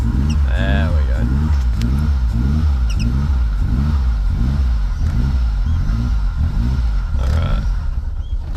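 A cold E85-fuelled turbocharged kei car engine revs up and down in steady repeated pulses, loud and close, with a rough mechanical clatter and brief voices talking partway through.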